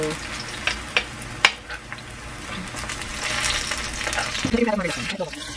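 Food sizzles and fries in a pan after being flipped, a steady crackling hiss that swells in the second half, with a few sharp utensil clicks early on and faint voice-like tones near the end.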